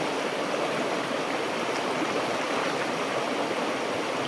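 Water in the Temula river in Kutai Barat flowing in a steady, broadband rush, close and continuous with no pauses and no talk.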